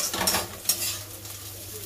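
Chicken pieces sizzle and crackle in hot oil close by, with a few scraping stirs and utensil clinks over the frying.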